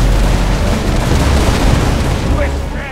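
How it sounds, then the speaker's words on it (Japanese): Cannon fire and explosions during a naval battle in Rise of Venice, a loud, continuous rumbling barrage of booms with a narrating voice faintly audible over it. "砲撃を開始しよう。"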